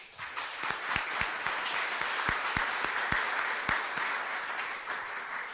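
An audience at a policy panel on Myanmar's development applauds the panelists, a steady wash of many hands clapping for several seconds with no one speaking.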